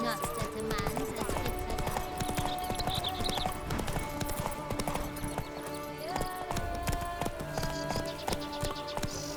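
Hooves of the horse Roach clip-clop at a steady gallop in The Witcher 3, Blood and Wine, close and continuous beneath dense music and speech.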